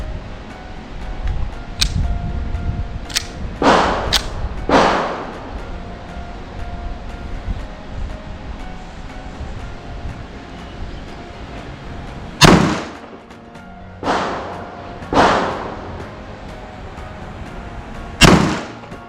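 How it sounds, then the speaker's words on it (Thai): Shots from an STI Apeiro .45 ACP pistol firing semi-wadcutter practice rounds at a range, loud sharp cracks spaced irregularly, some in quick pairs, each trailing a short echo, with quiet handling noise between. "ต่อไปผมจะทำการยิงด้วยกระสุนซ้อม เซมิวัตคัตนะครับ จำนวน5นัด"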